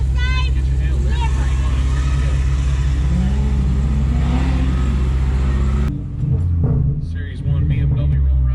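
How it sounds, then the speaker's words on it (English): A Series 1 BMW on weld wheels accelerates at a street car drag race, its loud, sustained engine roar droning for several seconds before cutting off abruptly. Crowd chatter and other engines carry on underneath. "Series 1 BMW rolling around the tower again."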